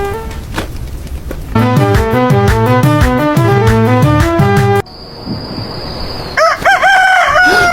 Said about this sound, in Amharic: ይሄ የስልክ አላርም አይደለም፣ ዶሮው ነው።